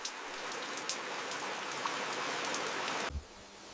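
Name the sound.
rain falling in Swiss alpine village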